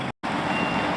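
A tour bus pulling in at a port: a steady, fairly loud vehicle drone with a high reversing-beep tone, broken by one brief cut of silence near the start.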